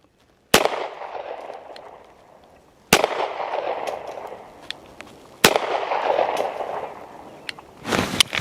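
A Smith and Wesson M&P Shield Plus pistol fires three sharp, loud shots spaced a couple of seconds apart, each cracking out and ringing down, with a fourth report starting at the very end.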